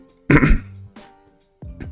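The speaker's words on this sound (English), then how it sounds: "as I'm coughing into the mic." A single sharp cough close to the microphone, followed by quieter throaty sounds.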